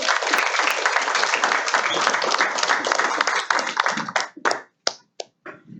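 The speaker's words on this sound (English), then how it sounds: "let's give her another round of applause" An audience applauds at a hockey analytics workshop, with sustained dense clapping for about four seconds before it thins into a few scattered claps and dies away.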